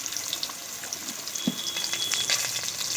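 Potatoes fry in hot oil with salt and turmeric, giving a steady close sizzle with scattered crackling pops and a few soft stirring knocks.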